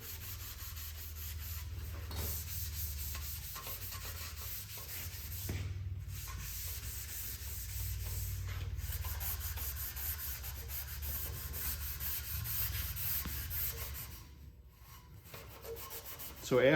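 Steady abrasive rubbing as a green scouring pad works over painted steel to strip most of the paint for an aged finish, a continuous close scratchy scrub with brief pauses and no talking.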